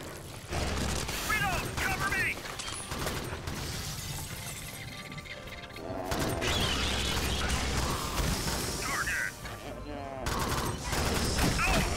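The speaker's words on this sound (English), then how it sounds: "Bro, this gun sucks." Bursts of rapid gunfire from a weapon in the video game Alien Swarm crackle through a busy mix of clanks and effects, with players talking over the shooting.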